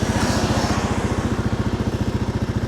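A motorcycle fitted with saddlebags idles close by in a steady, rapid, even chug, with a faint rattle of the saddlebag handles buried in the engine's loud throb.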